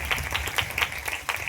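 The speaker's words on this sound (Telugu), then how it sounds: "బిగ్గరగా చప్పట్లు కూడా అందరూ." An audience at a gospel meeting claps along in a steady, fairly loud rhythmic beat of repeated hand claps, with little else beneath it.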